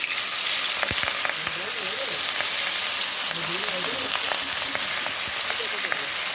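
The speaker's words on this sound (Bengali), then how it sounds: "সামান্য একটু তেল দিয়েছি, দিলাম লতি ইলিশের পাতুরি" Hilsa fish paturi with taro stems frying in a little oil, a steady dense sizzle filling the whole stretch, with faint clinks and a murmuring voice underneath.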